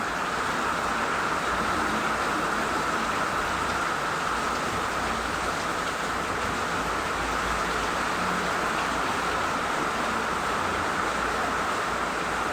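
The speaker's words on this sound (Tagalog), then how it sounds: "Lakas na naman ang ulan." Heavy rain pours down steadily around a house, a constant dense hiss of moderate loudness that never lets up, with no voices.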